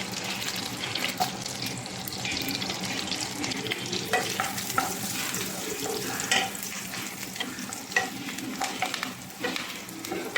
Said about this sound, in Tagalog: Yan, nag-melt na po yung ating butter. Lagyan na po natin yung garlic.